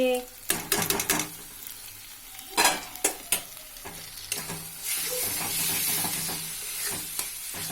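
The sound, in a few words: stirring mashed eggplant into spices in a pan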